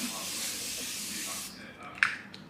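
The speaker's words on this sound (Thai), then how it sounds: "นี่ค่ะสเปรย์น้ำแร่นะคะบำรุงผิวหน้าก่อน" A mineral water facial mist spray hisses in one long, steady, close burst for about one and a half seconds before cutting off, followed by a faint click and quieter handling.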